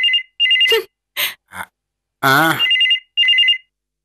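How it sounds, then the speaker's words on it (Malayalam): A telephone bell ringing in repeated short trilling bursts, loud and close, broken by a person's gasps and a short vocal outburst between the rings. "ഫോൺ അടിക്കുന്നു, പോയി എടുക്ക്."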